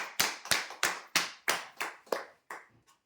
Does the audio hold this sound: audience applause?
yes